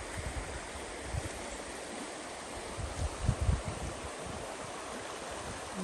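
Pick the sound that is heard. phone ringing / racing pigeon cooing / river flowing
river flowing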